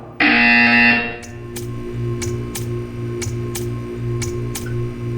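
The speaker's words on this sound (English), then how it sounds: "When you hear the buzzer, stare at the art." Game buzzer from Portal 2 sounds at the start, a loud harsh electronic tone lasting about a second, followed by a steady run of evenly spaced ticking clicks over a low hum.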